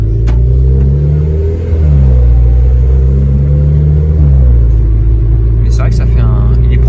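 A Renault Clio 4 RS with a stainless steel exhaust line revs loudly and close, a steady deep engine drone with a dip and rise partway through and a brief clatter near the end.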